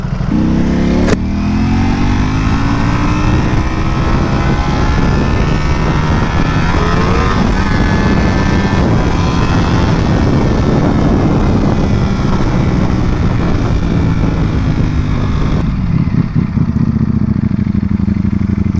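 A Ducati Panigale V4S motorcycle running on its stock four-outlet exhaust, a loud, close, continuous engine roar with rising revs and shifting pitch, bouncing off the ground, sustained throughout with no talking.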